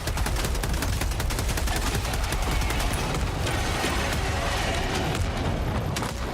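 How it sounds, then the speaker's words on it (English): Gunfire in the Helldivers video game, dense rapid bursts and overlapping shots forming a loud, nearly continuous barrage with no pauses. "I don't know where the fuck they're shooting at."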